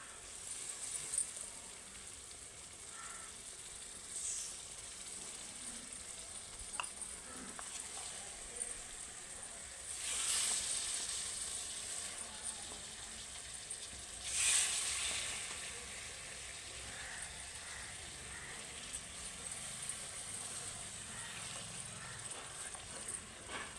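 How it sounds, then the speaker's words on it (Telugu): Fish sizzling in hot oil with chili powder, turmeric and salt, a faint continuous hiss of frying with a few louder swells and occasional soft knocks, close and quiet throughout. "ఇప్పుడైతే మనం చేపలు వదులుకుందామండి"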